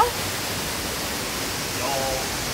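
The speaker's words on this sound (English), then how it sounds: "You like the water fountain? Waterfall." The waterfall at Epcot's Canada pavilion gives off a constant broadband rush of falling water, with people's voices faintly present beneath it.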